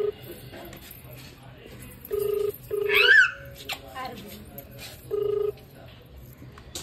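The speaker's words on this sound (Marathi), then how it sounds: "त्याला लावता फोन" Electronic phone tones from a call being placed: three short, steady beeps sound at a moderate level over quiet room background, with a brief higher chirp in between.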